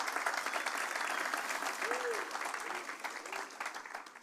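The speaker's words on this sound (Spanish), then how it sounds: "Denle el aplauso al Señor." A church congregation applauds together in a steady, full wash of clapping at moderate volume that gradually thins out, with faint voices mixed in.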